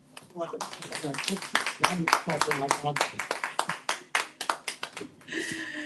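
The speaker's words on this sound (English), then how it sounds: "Let's clap." Audience clapping at an authors' gathering, a dense run of sharp hand claps that rises to a steady burst and then thins out, heard fairly close with a speaking voice mixed in underneath.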